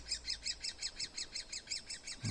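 A fast, even run of high begging calls from woodpecker nestlings, repeated chirps close by, ending with a brief low thump.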